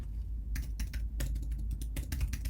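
Rapid, irregular typing on a computer keyboard while code is edited, with crisp clustered keystrokes close by over a low background hum.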